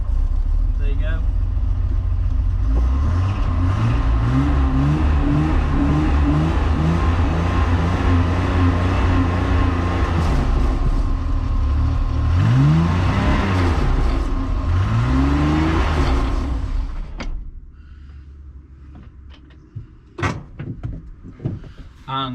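Rover SD1 car engine idling steadily in gear in a workshop, with a low continuous hum and a few knocks and clunks, heard under talking before cutting off abruptly near the end.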